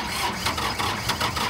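A John Deere 870 tractor engine catching and running as throttle is added, a steady mid-pitched diesel rumble with rhythmic pulsing bursts, close and fairly loud.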